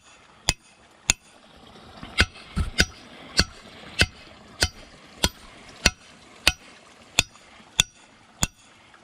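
A hammer drives beaver trap anchors into the ground outdoors near water, striking sharp, ringing metallic blows at a steady pace of about one every half second, close and loud with no talking.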